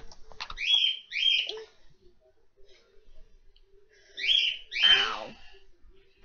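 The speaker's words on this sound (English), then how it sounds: "My mum moved the bird outside of my room." A pet bird calls just outside a bedroom door, giving two close pairs of sharp, squawking chirps separated by a few seconds of near silence.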